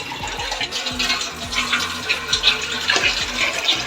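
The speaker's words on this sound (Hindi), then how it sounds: "ये हम तकरीबन इसके अंदर 2 किलो पानी जो है वो ऐड करेंगे।" Water poured into a pot from a container, about two kilograms, to boil rice for a home-cooked dish; a steady splashing, gurgling pour fills the whole stretch close by, with low rumbling underneath.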